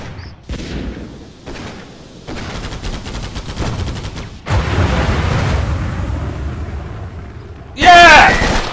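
Video game gunfire in rapid bursts, with sharp shots and sustained machine-gun volleys, followed by a louder explosive blast near the end.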